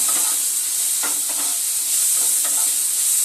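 Potato pieces coated with salt and turmeric sizzle steadily in a pan over a medium gas flame while preparing chicken singara, with a constant hiss and occasional scraping stirs.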